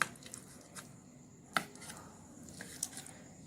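A knife cuts into a steamed egg set in an oiled idly pan, giving a few faint, sharp clicks and soft squishy contacts in a quiet kitchen.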